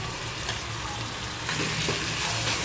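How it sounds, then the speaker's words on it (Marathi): Green masala paste goes into clams frying in a pan, setting off a loud, close sizzle with stirring scrapes that grows a little stronger partway through. "हिरवी आपली वाटण करून घेतलं आहे ते घालूया।"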